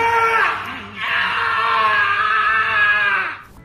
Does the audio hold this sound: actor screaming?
yes